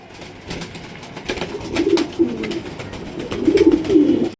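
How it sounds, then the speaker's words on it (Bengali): Pair of pigeons cooing close by, soft low repeated coos rising and falling over several seconds, with faint rustling and no talk. "চমৎকার এক জোড়া কবুতর দিয়ে আমরা শুরু করতেছি"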